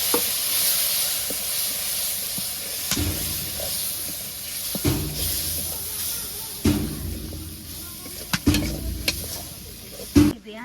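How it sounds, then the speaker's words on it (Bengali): Chili peppers frying in a pan in a village kitchen, a continuous hissing sizzle with stirring scrapes and knocks that grow busier toward the end, near and fairly loud. "মরিচ কষে নিব।"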